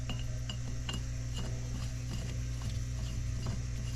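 Fittings are tightened during an oil tank installation, giving rapid ratcheting clicks and metallic taps over a steady low mechanical hum, faint and continuous.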